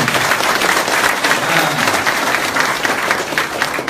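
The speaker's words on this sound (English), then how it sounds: "can we give them a big, big round of applause?" Sustained round of applause from a large audience at a business marketing presentation, thick continuous clapping filling the room at close range.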